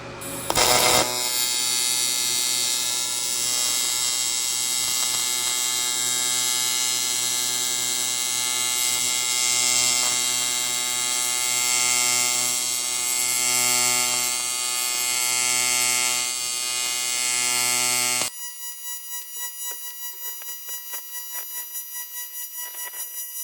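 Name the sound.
TIG welding aluminum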